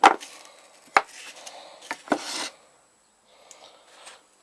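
A chisel works wood to cut a trigger slot in a homemade carbine crossbow, giving a few sharp taps and scraping rasps close by, spaced irregularly, then falling quiet.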